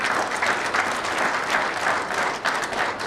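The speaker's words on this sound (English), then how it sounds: "Let us give big claps to our" Audience applause at an educational insurance seminar held at Apollo Hospitals in Hyderabad: dense, continuous clapping from a sizable crowd that fills the room for about three seconds with no talking.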